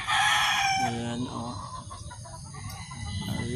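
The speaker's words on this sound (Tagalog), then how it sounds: "Ang dami nilang manok, oh." A large flock of chickens in Bulacan clucks and crows while someone feeds them, loud and close at first, then fading into busy outdoor noise as a person talks.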